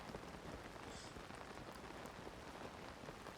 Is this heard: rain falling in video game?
yes